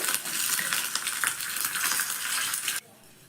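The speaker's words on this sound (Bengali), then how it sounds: "খুব ভালোভাবে কিন্তু দেখো মশলাটা ভাজা হয়ে গেছে" Dry red chilli pieces, black mustard seeds and curry leaves sizzle in hot oil, a loud steady crackle with stirring that cuts off abruptly into quiet near the end.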